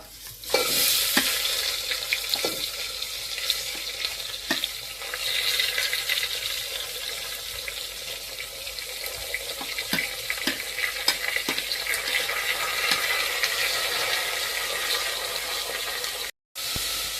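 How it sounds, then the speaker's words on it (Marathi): Chopped onion sizzles and fries in whole spices roasted in a pan for Konkan-style prawn rice, with steady bright crackling and occasional stirring scrapes throughout, close and alone. "कांदा असा छानपैकी परतवून घ्यायचा आणि तो पूर्ण ब्राऊन झाला पाहिजे"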